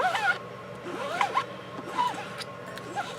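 An old plastic Amazon gift card drags a bead of paint across a silk screen, making repeated short rasping scrapes at close range, each stroke rising and falling, with no voices.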